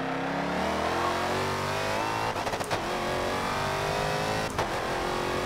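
A race car engine in a video game, a family car turned into a 1000+ horsepower racecar, revs and accelerates loudly and continuously, with brief stutters as gears shift or the throttle lifts.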